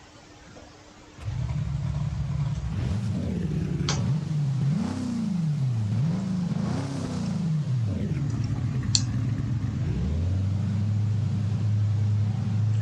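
A Cobra sports car in BeamNG.Drive rolls off a transport truck, its engine note rising and falling through several revs before settling into a steady idle, loud and alone.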